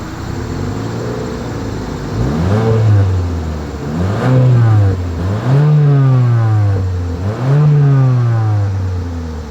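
A 2024 Mitsubishi Eclipse Cross engine revs repeatedly near the exhaust, the pitch climbing and falling in four or five loud surges over a steady idle.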